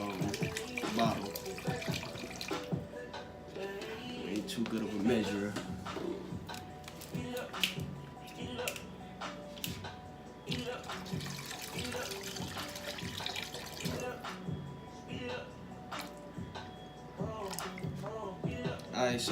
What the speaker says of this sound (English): now you gotta add your water. So let y'all know how much water I add. I measure it by the bottle.